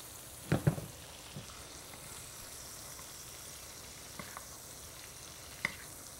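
Salmon fillet sizzles softly in butter in a frying pan while butter is spooned over it, with a few brief clinks of a spoon against the pan.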